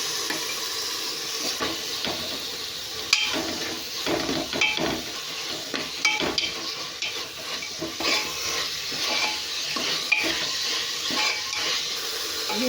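A spoon stirs tomatoes in a pan for prawn biryani, with a steady sizzle and irregular scraping knocks against the pan. No one speaks.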